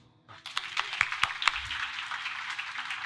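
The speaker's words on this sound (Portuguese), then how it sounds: "Aplauda ao Senhor aí." A church congregation at a worship service applauds, scattered claps building into steady, moderately loud clapping that fills the room after a brief quiet start, with no talking over it.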